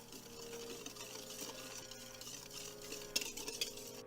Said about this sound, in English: I'm gonna whisk this together just so that the sugar can dissolve